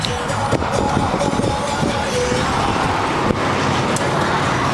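Steady broadband road and wind rush from a car driving with the windows rolled down on a warm day, continuous and close, with faint low murmurs but no clear speech.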